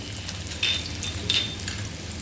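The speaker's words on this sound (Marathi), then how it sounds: "कांदा आपल्याला जास्त करपवायचा नाही आहे थोडासा असा शिजून घ्यायचा आहे" Onion softening in a pan of oil, a soft steady sizzle with two brief stirring scrapes, close and fairly quiet.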